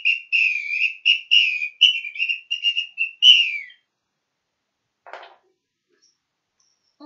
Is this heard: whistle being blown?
yes